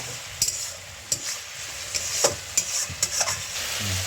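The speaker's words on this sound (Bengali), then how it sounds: "এই যে মশলা কষা হয়ে আসছে" Spice paste sautéing in oil in a pan for a pointed gourd and prawn dish: a steady close sizzle with repeated clinks and scrapes of a spoon stirring, no voices.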